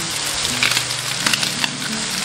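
Shrimp and raw garlic are stir-fried on a hot griddle, making a continuous close sizzle broken by scraping and tapping of the spatula as they are turned, with no speech.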